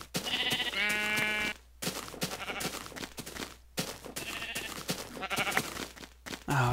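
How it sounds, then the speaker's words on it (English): Sheep in the Minecraft video game bleat several times in short, wavering calls, loud and near, separated by brief pauses. "I was about to say, is that a wolf? But it was just sheep."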